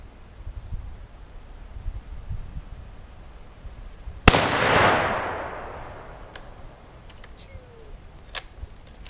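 A single loud rifle shot cracks outdoors in a backyard, its sharp report trailing off in a long echoing decay, with quiet ambient rustle before and faint clicks after.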